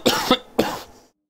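Two sharp coughs in quick succession, close and fairly loud, followed by a short fading tail, during Battlefield 2042 gameplay, with no talking.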